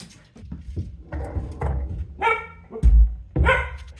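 A dog barks loudly and close by in several separate bursts, with short pauses between the barks.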